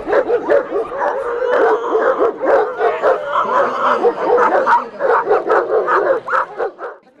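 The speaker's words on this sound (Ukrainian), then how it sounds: "Німецька овчарка Adidas" A German shepherd at a dog show barks, yips and whines in a rapid, loud, continuous string of calls close by.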